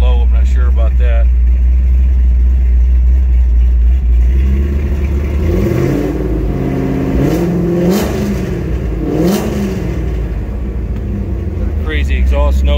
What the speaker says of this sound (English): I love the way that Corsa exhaust sounds.